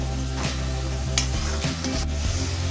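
Tomato puree frying in oil for a dhaba-style mushroom masala, a low steady sizzle with a few scraping stirs and utensil taps, over a faint musical background.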